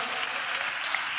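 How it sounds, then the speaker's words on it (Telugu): A church congregation at a Sunday worship service claps together, a brief dense burst of applause at moderate distance with no talk over it. "చప్పట్లు కొడుతూ స్తోత్రాలు చెప్దాం."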